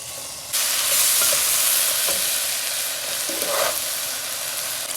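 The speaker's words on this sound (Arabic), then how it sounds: "اشوح الربيان بزيت زيتون" Shrimp sautéing in olive oil for a quick shrimp noodle dish, a loud sizzle bursting in suddenly and holding steady, close, with a few light scrapes of stirring and no talking.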